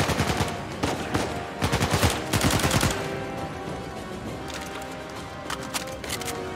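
Gunfire in the video game Uncharted 4 during an auction house robbery, with rapid automatic bursts cracking out in quick clusters, then a looser scatter of shots, loud and close, with no talking.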